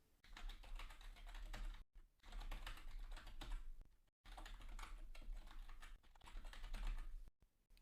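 Keys clatter steadily on a computer keyboard while a password and email are entered for the root user during a Proxmox Backup Server install, in three sustained bursts of close typing separated by brief silent gaps.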